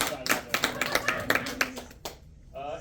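A handful of people clap for a hero day, giving distinct, slightly uneven hand claps close by that stop abruptly, with a voice speaking alongside and after.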